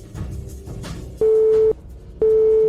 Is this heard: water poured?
no